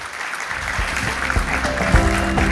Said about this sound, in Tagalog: Ang lakas po ng palakpak ni Romualdez.